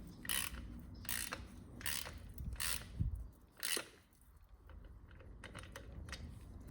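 A ratchet clicks in short bursts while bolts are tightened on the exhaust of a 2021 BMW F900R motorcycle. The bursts are close but quiet, with brief pauses between them.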